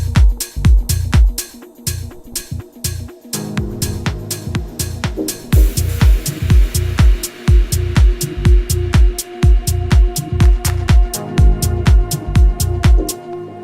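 Synth tension-build sound in a music track over a steady pounding kick and hi-hat beat, with a swelling, noisy layer that grows brighter midway, loud with no talking.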